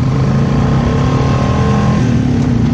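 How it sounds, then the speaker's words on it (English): A truck on 35-and-a-half-inch Outlaw 2 mud tires driving into a sandy pond in two-wheel drive, its engine droning loud and steady throughout. "So we're gonna hit the pond in two-wheel drive."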